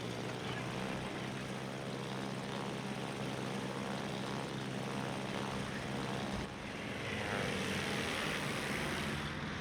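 Aircraft engine drone from planes launched in the naval warfare video game World of Warships, a steady loud propeller hum filling the whole clip with a slight shift near the end.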